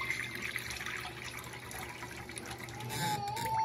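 Tap water runs steadily into a bowl for cooking ramen in a home kitchen, a continuous close splashing stream that rises toward the end.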